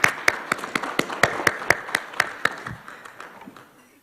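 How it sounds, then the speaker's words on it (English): A small crowd claps at a church annual meeting at St. Paul's UCC, with steady, rhythmic claps that are loud at first and then thin out and fade away. "Round of applause."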